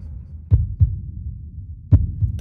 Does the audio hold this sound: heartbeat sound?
yes